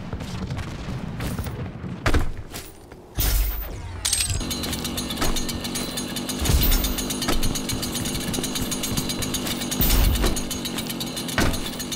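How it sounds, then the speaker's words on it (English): Chainsaw from the Doom video game, a grinding mechanical buzz that runs almost the whole time, close and fairly loud, with sharp bursts of gunfire and heavy impacts cutting through it. "Chainsaw spawned."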